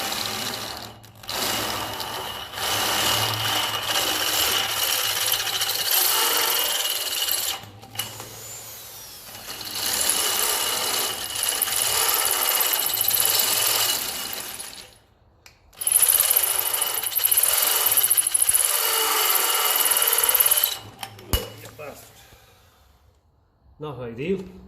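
A 10 mm bit drilling into metal on a 1954 Ferguson TEF 20 diesel tractor, loud continuous grinding whir in long runs with short pauses between, ending in a sudden stop as the bit breaks.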